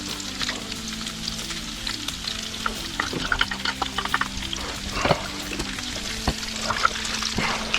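Onions fry in a pot with a steady loud sizzle, punctuated by repeated scraping and clinking as they are stirred, with no talking.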